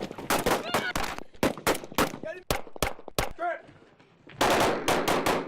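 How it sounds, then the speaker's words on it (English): Soldiers fire machine guns at a training base before an Afghanistan deployment: loud, close bursts of rapid gunfire in several volleys with short pauses, ending in a longer sustained burst. "soldiers are firing up, counting down the days to deployment"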